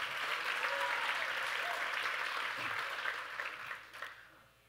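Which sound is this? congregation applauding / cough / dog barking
congregation applauding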